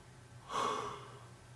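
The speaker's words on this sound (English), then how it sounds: "another yawn" A single soft human yawn, a breathy swell lasting about half a second, close and quiet against low background hum.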